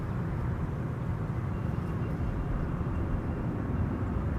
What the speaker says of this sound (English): Those 777 freighters and 300s make the best whir when they pass you by on arrival.